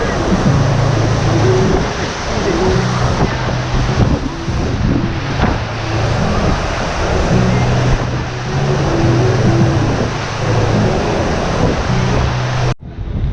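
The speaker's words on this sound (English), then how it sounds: "Sorry about the wind up here." Heavy, continuous wind buffets the microphone throughout, a loud roaring rumble with no break until a short dropout near the end.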